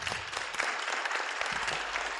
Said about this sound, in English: Can I ask for a round of applause for our wonderful panel?